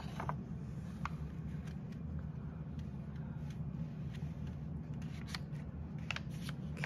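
Paper being unfolded slowly and carefully, a steady soft crinkling and rustling with scattered faint crisp crackles, close and quiet, with no voices.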